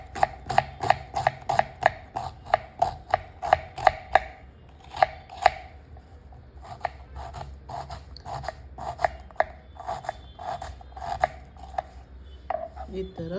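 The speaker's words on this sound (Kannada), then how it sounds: "ಈರುಳ್ಳಿನ ಸಣ್ಣ ಕಚ್ಕೊಂಬಿಡಿ." A knife finely chopping onion on a board, steady rapid close knocks in quick bursts with short pauses between, loud and alone.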